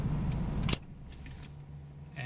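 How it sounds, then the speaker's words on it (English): A car engine idles with a low rumble, then cuts off abruptly as the key is turned, followed by faint jangling of the keys and light clicks in the quiet cabin. "turn off the vehicle"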